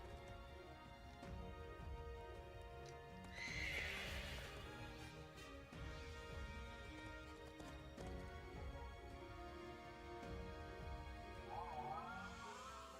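A horse neighs and whinnies in the Pokémon Crown Tundra video game, a faint whinny rising over soft game music and ambience, with a brief clip-clop feel and no voices.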